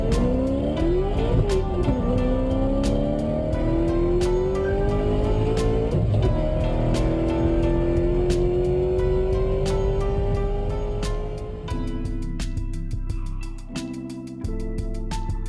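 Small model cars racing a lap around a track, starting from pole position, with a steady rising motor whine and occasional tire squeals, continuous and fairly close, shifting in tone near the end.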